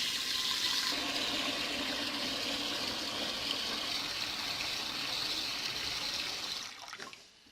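Tap water runs steadily into a cooking pot being filled to sterilise jam jars in a home kitchen, a loud continuous rush that stops abruptly near the end.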